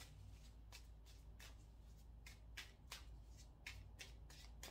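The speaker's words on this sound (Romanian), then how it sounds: "A început citirea, dar simt să mai amestec puțin cărțile" Tarot cards are shuffled by hand in a quiet room, a series of soft, papery riffles and slaps coming in irregular bursts, close but faint, with no voice.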